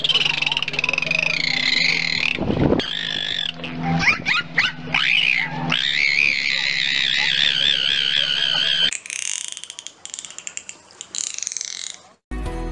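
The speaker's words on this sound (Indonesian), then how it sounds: "Lumba-lumba mengeluarkan suara yang mirip dengan suara siulan." Dolphin whistles: high, warbling whistles sweep up and down continuously, joined by sharp clicks, then give way to buzzing, crackly pulses near the end.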